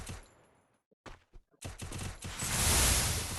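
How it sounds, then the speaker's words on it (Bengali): Fireworks burst with a few scattered sharp pops, then swell into a dense, loud crackling barrage that keeps building toward the end. "ও আতশবাজি।"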